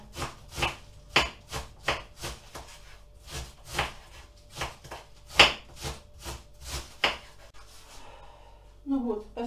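A knife chopping through cabbage on a cutting board, producing a steady series of sharp, close cuts at a regular pace, with a voice speaking briefly at the end.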